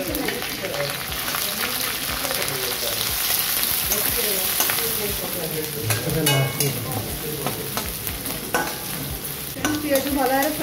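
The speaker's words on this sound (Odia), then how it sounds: "ପିଆଜ ଭଲ ଭାବରେ ଫ୍ରାଏ କରିଦେଉଛି" Onions with ginger and raw peas fry in a pan for an egg manchurian, giving a steady loud sizzle with repeated scraping and clattering stirring strokes, close up, throughout.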